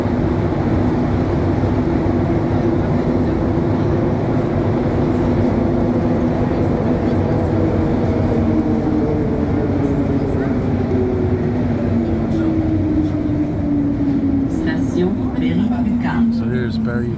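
Montreal Metro orange line train running on metal wheels, with a loud steady rumble inside the car and a whining motor tone sliding down in pitch, ending in light clatter and a voice.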